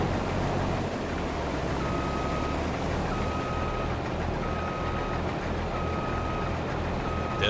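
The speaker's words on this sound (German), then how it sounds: "Der fährt halt hier durch die Frucht rückwärts." A Claas Trion combine harvester in Farming Simulator 22 reverses through a crop field with a steady engine rumble, while evenly spaced reversing beeps repeat about every second and a half.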